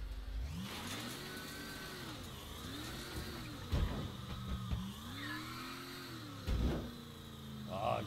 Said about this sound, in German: Oh, geile Karre, Alter.